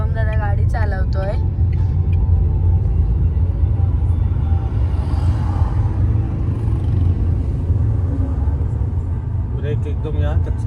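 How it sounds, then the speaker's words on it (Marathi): A car's engine rumbles low and steady while driving along the Kasara ghat road on a family trip, with voices talking inside the vehicle at the start and end. "गाडी चालवतोय"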